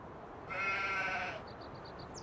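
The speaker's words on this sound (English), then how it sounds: "We've got a little sheep" A single short video game sheep bleat from a livestock trailer, moderately close, followed by faint quiet chirps over a soft background hiss.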